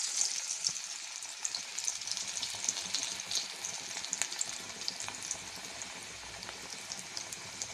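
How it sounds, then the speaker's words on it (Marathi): Kothimbir vadi, coriander fritters, fry in hot oil with a soft, continuous crackling sizzle and scattered small pops, fairly quiet and close, with no voices. "तेल छान गरम झालेलं आहे आणि आपल्या कोथिंबीर वडी ज्या आहेत आपण तळून घेऊया"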